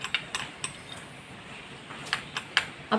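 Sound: spoon mixing a homemade face pack in a bowl

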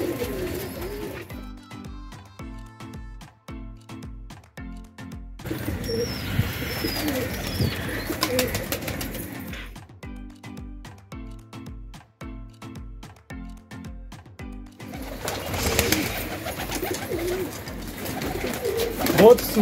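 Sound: pigeons cooing at a pigeon loft

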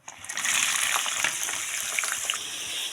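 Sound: frying carrots and beans together in oil

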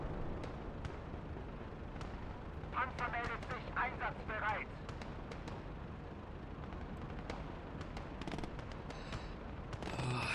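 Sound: gunfire in the video game Call to Arms: Gates of Hell

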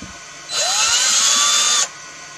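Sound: power drill widening holes in 3D printed shell

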